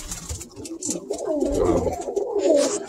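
A male pigeon from a kit coos up close, a soft, rolling, throaty call that swells and repeats over a few seconds, clear against quiet surroundings.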